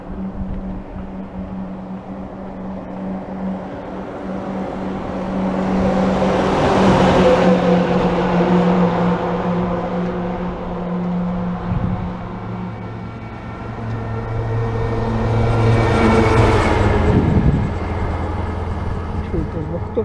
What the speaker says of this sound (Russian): Что это за вахтовки? Один за одним идут.